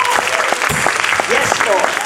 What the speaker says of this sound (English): give him a hand clap of praise tonight